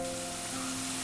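Tender jackfruit pakoda fries in hot oil, giving a brief, even sizzle with a soft hiss and no voices.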